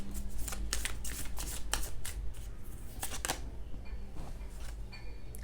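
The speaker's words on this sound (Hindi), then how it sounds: "जल्दी से फोकस कीजिए जब तक मैं कार्ड शफल कर रही हूँ" Tarot cards being shuffled by hand in a close, steady run of soft riffling bursts and slaps, loud and nearly continuous with no talk over it.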